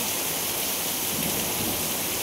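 Steady, dense rainfall hisses loudly and evenly during an afternoon thunderstorm, a continuous close wash of drops with no voices.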